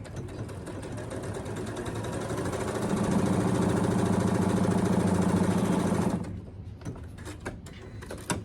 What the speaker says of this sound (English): So I'm just going to do a top stitching and seal up that bottom edge of my pocket.